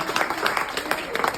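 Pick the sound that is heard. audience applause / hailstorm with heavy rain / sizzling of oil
audience applause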